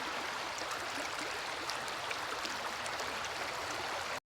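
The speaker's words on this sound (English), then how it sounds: "There's a nice waterfall what kind of opens up in this big section." Water pours over a waterfall in a mountain stream in a steady broadband rush, distant and fairly faint, with no voices.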